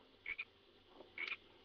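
Frogs croak in Sonic Heroes, three or four short chirpy croaks in two quick bursts separated by a pause, fairly close and clear against a quiet background.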